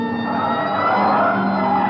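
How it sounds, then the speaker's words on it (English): A police car siren wails without a break in an old radio crime drama during a car chase, loud and close, with no talk over it. "Hit the siren."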